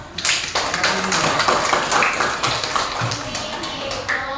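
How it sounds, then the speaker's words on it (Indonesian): Classroom applause for a student group in an open class, a dense burst of many hands clapping close by, loud and steady for several seconds with some voices mixed in. "tepuk tangan buat kelompok"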